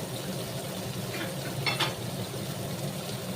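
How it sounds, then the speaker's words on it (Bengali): Onions sizzle softly in a hot pan, a steady frying hiss with a brief clatter midway, fairly quiet and without speech. "এই পেঁয়াজ ভাজা হচ্ছে"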